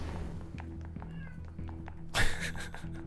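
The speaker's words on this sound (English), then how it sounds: "The cat's upset that she's not seeing the end of the game." A house cat meows several times close by indoors, with game music playing underneath and a sudden thump partway through.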